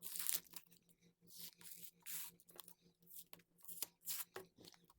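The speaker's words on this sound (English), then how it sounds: "I'm going to pull off my masking tape and make sure that everything looks good" Masking tape peeled in repeated short rips from fabric around a sewn battery pack pocket, a close, quiet series of tearing and crackling strips with brief pauses between pulls.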